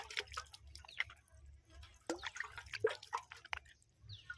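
Well water pours and drips from a kalsa pot in uneven splashes and trickles, close and fairly quiet, with no voices.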